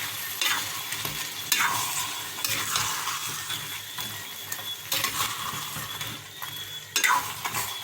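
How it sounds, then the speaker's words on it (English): Tofu and scallion sizzling in a frying pan as a utensil stirs them, with steady frying crackle and repeated scraping strokes across the pan, close and fairly loud with no talking. "throw in some escallion in there, and we're going to just mix that all in"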